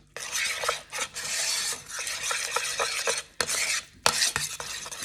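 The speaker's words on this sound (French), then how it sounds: "on va mélanger le tout" A homemade rice cream hair mixture is stirred steadily in a bowl, making a continuous close scraping and swishing with brief clinks of the utensil, one short pause near the end and no voices.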